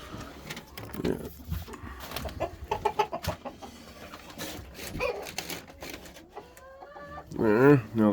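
Chickens and roosters in a coop during a snowstorm give scattered clucks and short calls amid clatter and rustling, ending in a louder squawk close by.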